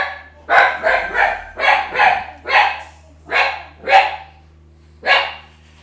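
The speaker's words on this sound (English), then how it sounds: "sounds like a Doberman, but she only weighs 10 pounds." A small dog weighing under ten pounds barks repeatedly, nine sharp, fairly loud yaps in an uneven rhythm about half a second apart, close by with a faint low hum behind and no talking.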